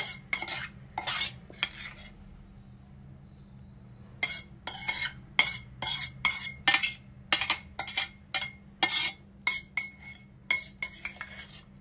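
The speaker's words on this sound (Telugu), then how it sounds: "ఈ ఆనియన్ కూడా మనం మిక్సీ జార్లోకి తీసుకోవాలి." Fried onion being scooped from a pan into a mixer grinder jar while making stuffed brinjal curry, heard as a run of close metallic scrapes and clinks of a spoon against steel, in irregular bursts with a short pause partway through.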